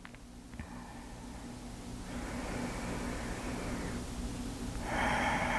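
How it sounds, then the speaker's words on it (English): Slow, deep breathing in and out through the nose during a calm yoga session, soft airy inhales and exhales, close but faint over a low steady background hum. "begin breathing in and out through the nose"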